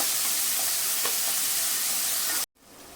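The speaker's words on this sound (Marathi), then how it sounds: "आता आपण याच्यामध्ये एक मीडियम साईजचा टोमॅटो टाकायचा आहे परतून द्यायचे" Green chillies and a medium tomato sauté in a pan, a loud, even, hissing sizzle close up that cuts off abruptly to near silence before a quieter hiss returns.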